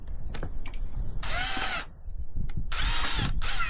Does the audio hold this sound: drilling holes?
yes